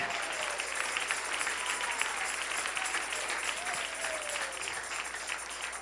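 A church congregation applauds in praise of God, a steady wash of many hands clapping together at moderate distance, sustained throughout without a break.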